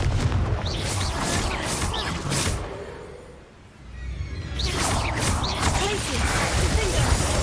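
A Confringo fire spell blast in the Hogwarts Legacy video game, heard as heavy booming, crackling bursts that dip briefly to near quiet midway before another loud fiery eruption, with spoken game dialogue around it.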